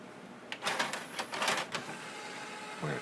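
JVC CD/DVD changer mechanism whirs and clicks after being plugged in, a short burst of mechanical rattling and motor movement that settles into quiet. It is close and faint, with no talking.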